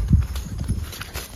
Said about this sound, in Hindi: भाई देखो वहाँ पर घोड़ा,